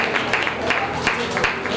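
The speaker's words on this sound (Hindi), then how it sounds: "तालियां बजाते चले इनके लिए" Audience clapping at a Jain temple cultural program in Ladpura, Kota, a steady dense patter of many hands throughout, fairly close and continuous, with a speaking voice mixed in.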